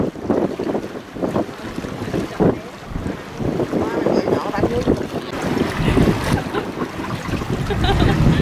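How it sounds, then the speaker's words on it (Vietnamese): A Hino engine drives a fishing boat at a sea harbour mouth, a low rumbling drone largely buried under heavy wind buffeting on the microphone. Voices talk faintly in the background. "Tiếng máy Hino nha, tiếng máy này mình nghe là Hino."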